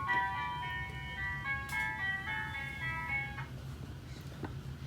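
A short electronic chime-like melody of bright tonal notes plays back after a test tube is shaken in an interactive sound installation, heard fairly quietly over a steady low background hum.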